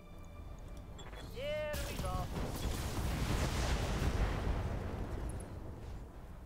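Missiles fire and explode in the video game Battletech, a fairly faint, sustained rumbling barrage that swells after a brief voice and rolls on for several seconds.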